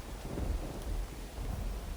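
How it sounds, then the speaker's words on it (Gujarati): Steady evening rain falling in Amreli district, Gujarat, with a low, rumbling wash underneath, continuous and fairly even throughout, with no voices. "ક્યાંક ધોધમાર વરસાદ છે તો ક્યાંક ધીમી ધારે વરસાદ પડી રહ્યો છે"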